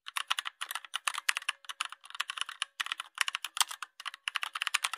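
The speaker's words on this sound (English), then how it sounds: "Yanzu bari mu fito da keyboard ɗina, sai na rubuta masa topic ɗin da nake buƙata." Rapid, crisp keystrokes clatter on a computer keyboard in bursts of quick taps with brief pauses, close and clear with no voices.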